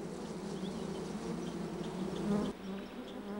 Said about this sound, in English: The very sound of bees can send people ducking for cover.